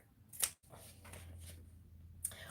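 Pinking shears cut around the curves of sewn fabric, making a few quiet, crisp snips spaced apart against a soft background hum.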